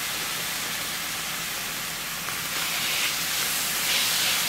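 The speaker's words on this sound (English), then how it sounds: "once that sofrito hits the pan, it's incredible" Sofrito sizzles hard in a hot pan, a broad steady hiss that swells a little louder toward the end, close and alone with no talking.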